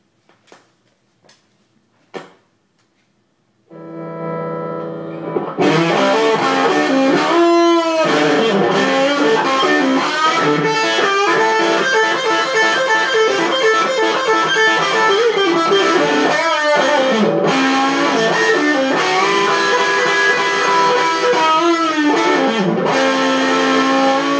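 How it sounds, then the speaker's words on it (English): Electric guitar lick with heavy distortion, sustained overdriven notes and bends ringing loud and continuous after a few quiet plucks. "this time we're going to use a little bit of distortion and amplification"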